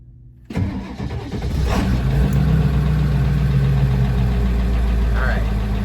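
An engine cranks and catches at once, then settles into a steady, loud, rumbling idle close by, with a person briefly talking over it.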